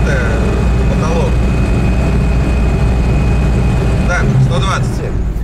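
Five-door 2000 Lada Niva VAZ 2131 with a 1.7-litre 79 hp engine cruising at around 120 km/h in fourth gear, a loud, constant low cabin drone of engine and road noise with someone speaking over it.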